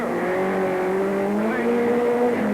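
A rally car in a 1984 Ashley Forest rallysprint pulls away from the start line, engine note rising steadily through the gears at close range, with a voice talking over the loud, continuous drone.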